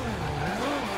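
Car drifting through a corner in the racing game Forza Horizon 2, its engine note sliding steadily over a constant, loud tire-and-motor roar for about a second.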